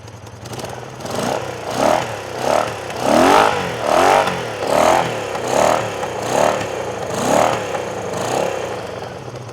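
A Honda motorcycle engine, freshly running after a carburetor rebuild, revs loud and close in a steady series of about a dozen rising and falling throttle blips over a rough idle.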